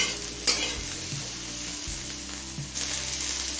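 Vegetables for a mixed-vegetable matar dal fry over a medium flame, a steady close sizzle broken by a few stirring scrapes and clinks, no voices present.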